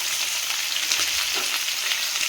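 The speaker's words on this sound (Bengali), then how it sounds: "তেল গরম হচ্ছে, কালো জিরে দিয়ে দিলাম ফোড়নে। এবার দিয়ে দেবো কুচানো পেঁয়াজ।" Chopped onions and nigella seeds fry in hot oil, giving a steady, close, loud sizzle with faint stirring scrapes underneath and no voices.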